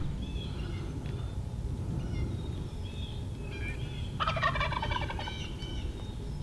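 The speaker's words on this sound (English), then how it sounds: "this bird is gobbling hard off the roost" A wild turkey gobbles hard from its roost during a Tennessee spring hunt: one loud, rattling gobble bursts out midway, with fainter bird calls before it over quiet outdoor ambience.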